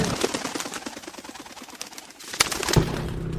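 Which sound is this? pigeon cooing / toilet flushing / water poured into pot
pigeon cooing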